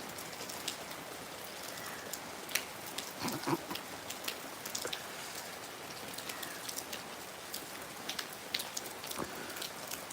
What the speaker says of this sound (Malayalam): മഴ മാറുന്നു പെയ്യുന്നു